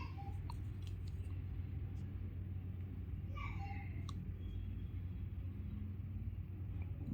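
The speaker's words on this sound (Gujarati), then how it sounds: "ગાડી ચાલુ છે કમ્પ્લીટ એક ધારો." A Tata Tiago diesel engine idling with hard power steering, check-engine light, immobilizer and ABS faults, heard as a steady, even low rumble throughout with faint brief sounds layered on top.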